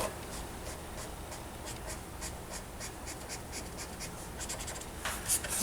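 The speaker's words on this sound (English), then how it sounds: "just go back with my blending pen and pull that in" A blending pen rubbing and dragging across paper while colouring a pumpkin latte sleeve, a soft continuous scratchy stroking with rhythmic repeated passes, close and fairly quiet.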